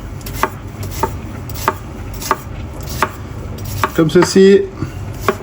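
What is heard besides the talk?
knife slicing a shallot on a cutting board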